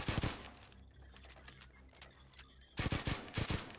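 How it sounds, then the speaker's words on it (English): Gunfire in Payday 2 crackles in short rapid bursts of sharp shots, a cluster at the start and a louder group near the end, with quieter scattered pops between. "Can you stop shooting at things?"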